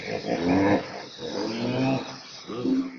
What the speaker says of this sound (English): hippo, hippopotamus